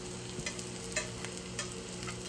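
Onions, potato and radishes fry for low carb hash browns with a quiet, even sizzle and a few light stirring scrapes, close and soft with no talk.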